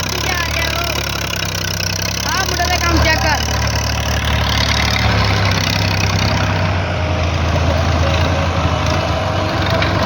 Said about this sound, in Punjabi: ਟਰੈਕਟਰ ਆ ਚੁੱਕਿਆ ਵੱਡਾ